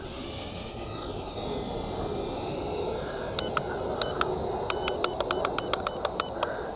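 JJRC JJ800 quadcopter drone in beginner's mode, taking off and flying; a steady broadband whir with a whining motor tone, joined later by a run of short, sharp clicks or beeps.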